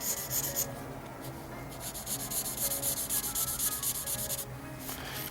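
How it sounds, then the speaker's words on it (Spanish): A pencil rapidly shades a technical perspective drawing on paper, making a soft, continuous scratchy rubbing with quick strokes, heard close and quiet without speech. "Entonces, sombreamos todas las caras laterales."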